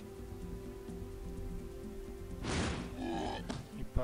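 Rain falling in the video game Heroes 3, a soft hiss of rainfall that swells in over a steady looping game-music drone, with a louder gust and a sharp thud near the end.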